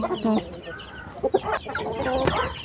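Pet chickens clucking close by in a backyard pen, with several short, choppy clucks and squawks scattered across a few seconds, fairly quiet.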